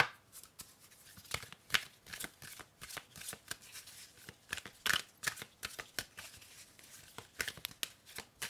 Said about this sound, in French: je remélange à nouveau